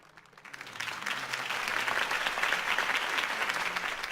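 A crowd breaks into applause after a political campaign speech in Batman: The Telltale Series, the clapping swelling quickly from near quiet into a dense, sustained wash that holds steady to the end.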